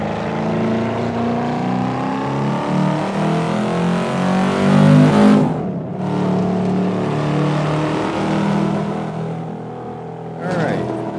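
A 2002 Chevrolet Camaro SS engine revs and launches as the clutch releases, the V8 tone climbing steadily and loudly, cutting briefly near the middle before pulling again, with a second short break near the end.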